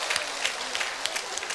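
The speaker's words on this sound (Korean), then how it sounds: "이럴 때는 박수 한번 치셔야 돼." Brief audience applause at an overnight prayer meeting in a retreat house: a short, even burst of many hands clapping, with no voices on top.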